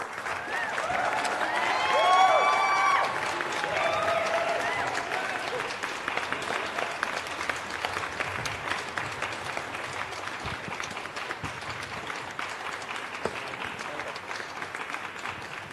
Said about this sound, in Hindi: जोरदार तालियों के साथ स्वागत कीजिए बिहार की बात के मंच पर श्री संतोष सुमन